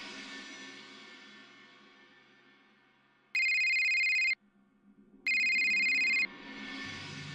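A phone ringtone for an incoming call sounds in two loud, bright electronic bursts about a second long each, separated by a short pause, over a quiet room background with no talking.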